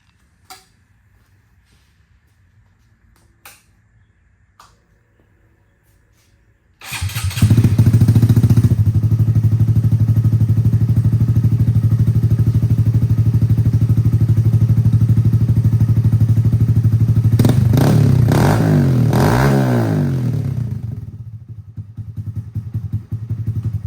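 Honda Grom motorcycle, a 2018 model, idling on its stock exhaust: after a few faint knocks the engine starts and holds a steady, loud, close idle, with a brief throttle blip near the end before the note fades down.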